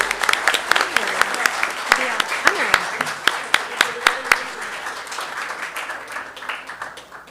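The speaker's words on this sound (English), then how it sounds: "go ahead and go up front and receive a round of applause" A small group at a school board meeting claps and applauds with sharp, irregular hand claps that gradually thin out, while people talk underneath.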